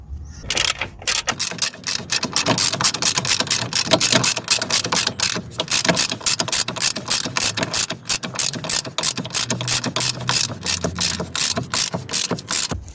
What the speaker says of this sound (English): I'm gonna hold it with this bar here while I tighten it from the bottom.